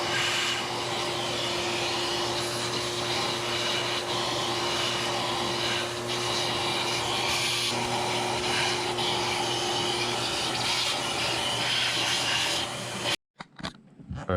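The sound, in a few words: shop vac vacuuming dirt and debris from engine injector ports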